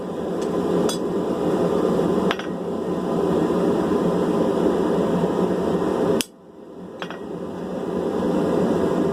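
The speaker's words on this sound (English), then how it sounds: "We're gonna mark those in with a cold chisel real quick" A hammer strikes a cold chisel to mark steel tongs in a forge workshop, a few sharp metallic taps spaced seconds apart over a loud steady mechanical drone that cuts out briefly before returning.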